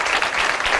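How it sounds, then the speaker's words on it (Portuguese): A studio audience applauds a guest on an afternoon talk show, with dense, even clapping that stays loud and close through a brief burst. "Um aplauso para o nosso convidado."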